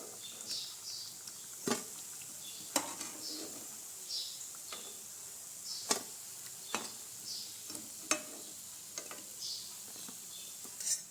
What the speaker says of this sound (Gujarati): તો આવી જ રીતના આપણે આ વધેલા બિસ્કિટ પણ તળી લઈશું.